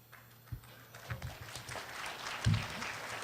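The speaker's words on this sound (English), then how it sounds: "Golf clap" Scattered, quiet, polite golf-clap style clapping from a panel audience, soft and sparse hand claps building slightly toward the end at low volume.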